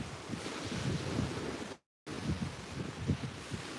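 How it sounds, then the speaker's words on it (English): Steady wind gusts buffet the microphone at a beach during sunset, with surf rumbling underneath, interrupted by a brief dropout of silence before the blustery noise resumes. "And it is still windy"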